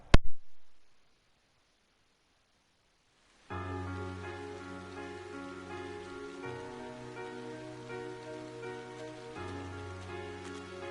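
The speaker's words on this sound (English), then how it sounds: "With summer well underway, a rainy spell seemed to hang over Trista." Steady rain falls in the Legend of Heroes: Trails of Cold Steel video game, a soft continuous patter layered under gentle music after a brief sharp sound and a short silence.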